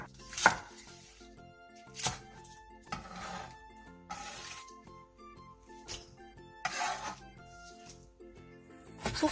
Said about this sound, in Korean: 대파 2개를 길게 반으로 가른 뒤 5cm 정도 길이로 잘라주세요